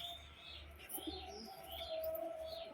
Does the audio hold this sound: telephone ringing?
no